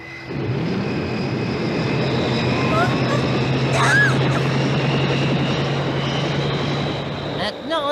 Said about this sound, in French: Mets les hélices en route.